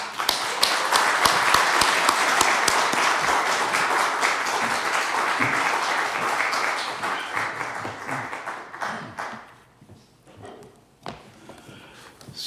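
An audience at a church organisation's general assembly and leadership installation ceremony applauds steadily as a speaker comes forward, the clapping thinning out and fading to scattered claps and quiet near the end.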